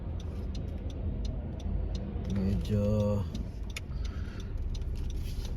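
Cars idle and move through a winter car wash in Canada, a steady low engine rumble with light metallic jingling and ticking, as someone speaks briefly over it.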